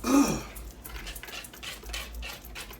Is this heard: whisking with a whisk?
yes